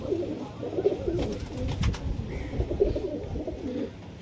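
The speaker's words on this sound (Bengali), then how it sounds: "পাঞ্জাব থেকে নিয়ে আসা শিয়ালকোটি পায়রা" Sialkoti high-flyer pigeons from Punjab, a male among them, coo in low, repeated throaty phrases over a steady murmur of nearby birds, moderately close and continuous.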